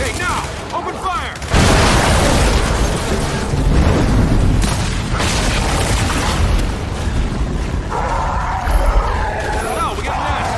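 Gunfire and explosions in an Xbox Series X game, a dense, continuous barrage of loud booms and rattling shots, with voices shouting over the battle.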